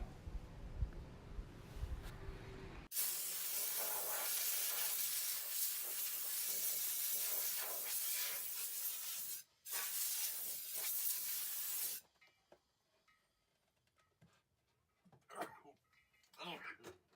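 Clear coat sprays onto a router-carved wooden sign in a long, steady hiss lasting several seconds, briefly interrupted once, then stopping, followed by quieter scattered handling sounds.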